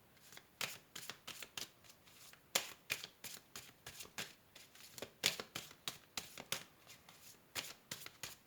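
Oracle cards being shuffled by hand in a quiet room, a steady run of soft riffling bursts, each a quick papery flutter, repeating about twice a second with nobody speaking.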